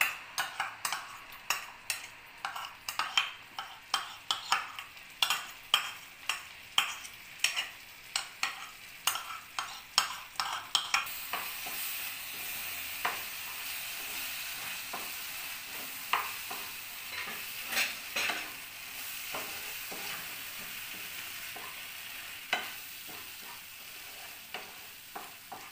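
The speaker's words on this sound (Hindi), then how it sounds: "मसालों को हम अच्छे से भून लेंगे" Thick onion, potato and tomato masala paste frying in a pan for paneer makhani, with a steady sizzle under repeated sharp clinks and scrapes of a spoon stirring, close and unhurried.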